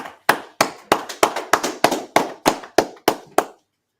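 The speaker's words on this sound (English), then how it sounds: "Let's clap it up" An audience claps about a dozen times in a slow, even rhythm, each sharp clap ringing briefly before the next, then stops.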